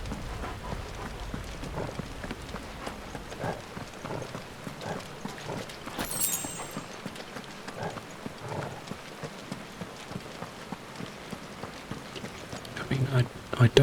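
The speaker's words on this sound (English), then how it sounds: "why is it raining inside?" Steady rain patters indoors in a Final Fantasy XVI scene, a soft continuous hiss of drops with faint taps and a few louder knocks near the end.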